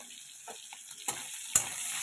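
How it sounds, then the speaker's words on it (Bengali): Lightly fried shrimp sizzling in a pan after green chillies and chopped ash gourd are added, a close, steady hiss with a few sharp crackles and spatters. "চিংড়ি মাছগুলো একটু হালকা করে ভেজে নিলাম। নিয়ে এবার কাঁচা লঙ্কা আর চাল কুমড়ো দুটোই ঢেলে দিয়েছি এর মধ্যে।"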